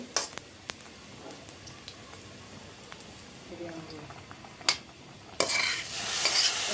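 Panch phoron spices in hot oil in a pan, with sparse metal taps and light stirring scrapes before the sizzle swells loudly near the end, close by.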